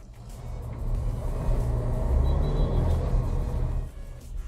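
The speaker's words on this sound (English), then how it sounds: "When you put your foot down, it does get a nice sporty note to it." A Volkswagen Tiguan TSI petrol engine in a 2021 SUV accelerates, heard from inside the cabin as a steady low rumble that swells and holds, moderately loud with road noise.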